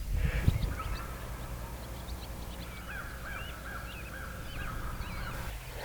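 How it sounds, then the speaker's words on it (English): Wild turkeys in a flock with several toms, heard outdoors in the rain, gobble faintly and at a distance, a few short rolling calls rising over steady background noise. "They've gobbled like 4 or 5 times in the last 2 minutes"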